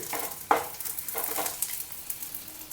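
Green chillies frying in a hot pan, a steady crackling sizzle with a few sharper pops and stirring scrapes, close and alone.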